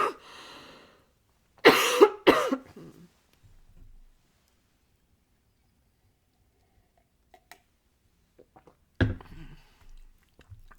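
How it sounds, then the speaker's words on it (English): A person coughs sharply a few times close to the microphone, with a cough at the start and another burst near the end, separated by quiet and small handling sounds. "Let me just cough and drink some water."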